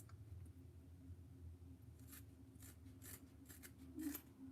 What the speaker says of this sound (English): I'm gonna trim the edge of it with the scissors.